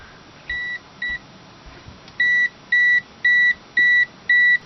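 Repeated electronic beeps from a multimeter's non-contact voltage detector checking cables, two short beeps followed by a steady run of five evenly spaced longer tones, close and clear over quiet room hiss.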